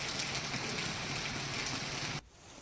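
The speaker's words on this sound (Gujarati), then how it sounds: "બપોરના સુમારે વરસાદ શરૂ થતાં અનેક વિસ્તારોમાં વરસાદી પાણી ભરાયા છે" Heavy monsoon rain pours in rural Junagadh, a dense, loud, continuous hiss of drops on surfaces that cuts off abruptly near the end, with no voices.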